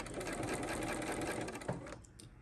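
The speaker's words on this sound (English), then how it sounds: "I sew just a little bit at a time" A sewing machine stitches a quilt block in a steady, fast whirring run for about two seconds, then stops.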